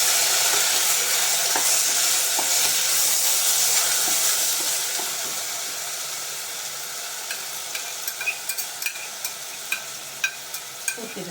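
Washed rice tips into a hot pan with a loud hissing sizzle that slowly eases off. Scattered scrapes and knocks follow as a utensil stirs it around.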